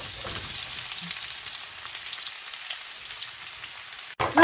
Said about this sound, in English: The oil is ready. Time for the onions to go in.